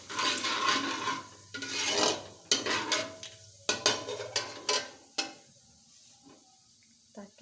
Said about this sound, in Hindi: ऑयल गर्म हो गया है तो अब इसमें हम ये खड़े मसाले जो हैं वो शामिल करेंगे